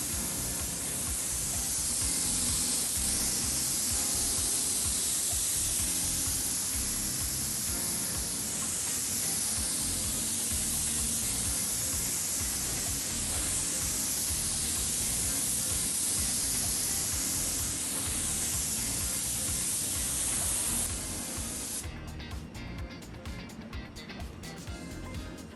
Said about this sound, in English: Next up, it's time to apply the Ngenco base coat. This is the liquid paint protection spray.